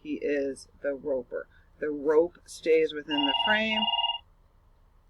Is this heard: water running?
no